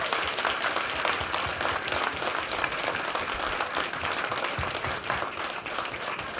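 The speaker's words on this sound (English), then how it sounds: "Could you please give a massive round of applause for Mr." A dense, steady wave of audience applause greets guest Spencer Wilding at an Edinburgh Comic Con panel, loud and sustained for the whole stretch with many hands clapping together.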